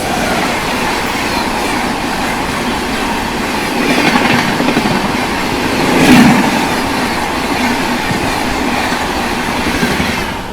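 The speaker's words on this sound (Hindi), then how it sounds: "सामने से आ रही है आप लोगों की रिवांचल एक्सप्रेस" The Rewanchal Express passes at night, heard loud and close as a continuous rumble of rolling railcars with clattering wheels that swells in the middle.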